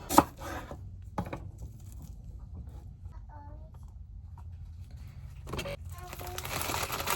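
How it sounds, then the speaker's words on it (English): A knife chops onion on a cutting board while vegetarian pizza toppings are prepared, giving a few sharp, separate strikes with quiet pauses between them. "we're gonna cut some onion"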